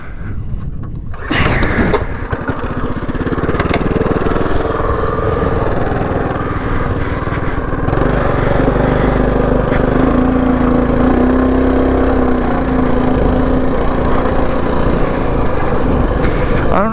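Small pit bike with a 224 engine runs steadily on back roads, a continuous buzzing motor note that stays close and loud throughout, with a brief dip near the start and a rising whine in the middle.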